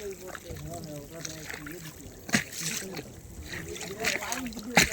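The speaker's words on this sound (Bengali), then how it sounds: "এই যে দেখো ঢেউয়ের শব্দটা" Small waves lapping and splashing on the Matla river in the Sundarbans, soft irregular sloshes and splashes heard beneath a voice talking throughout.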